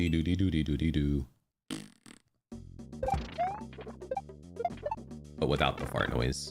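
A cartoonish fart sound effect in Super Mario Maker 2 blurts out briefly among bouncy game music and chiptune effects, with a voice chattering over parts of it.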